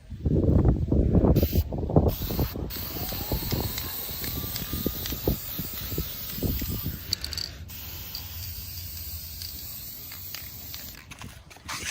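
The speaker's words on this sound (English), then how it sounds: "kind of all-purpose spray paint to spray paint this styrofoam" A steady hiss of all-purpose aerosol spray paint being sprayed onto styrofoam runs through most of the clip, mixed with occasional rattles and handling clatter nearby.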